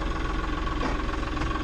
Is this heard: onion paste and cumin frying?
no